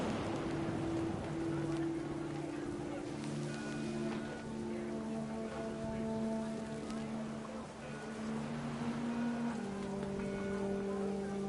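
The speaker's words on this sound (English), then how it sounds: "Rain came down in buckets then" Heavy rain pours steadily in the video game What Remains of Edith Finch, a dense hiss under calm sustained music tones and a faint narrating voice.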